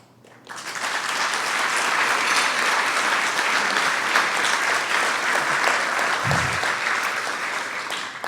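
Audience at a Wall Street keynote speech breaks into applause, a dense sustained roar of clapping that starts abruptly and holds steady and loud throughout.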